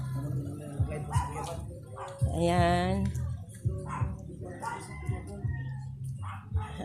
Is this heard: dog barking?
yes